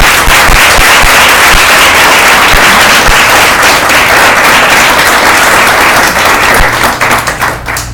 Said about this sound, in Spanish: porque no le das un aplauso